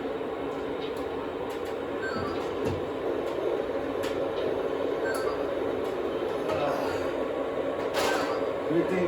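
Lionchief Santa Fe model trains run on their track with a steady, continuous rolling whir and rumble, joined by a few faint clicks and a brief brighter burst near the end.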